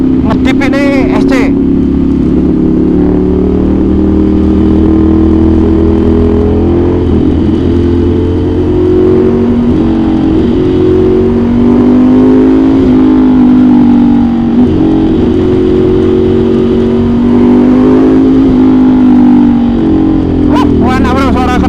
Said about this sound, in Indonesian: Mana bro suara knalpotnya.